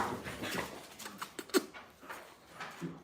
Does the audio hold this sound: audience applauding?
no